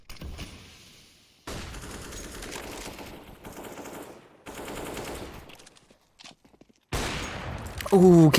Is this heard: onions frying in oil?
no